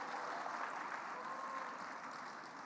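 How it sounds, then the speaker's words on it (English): Audience applause for a UNDP resident representative being called up at a youth event in South Africa; a steady, fairly faint wash of clapping holds evenly and fades slightly toward the end. "A round of applause for him"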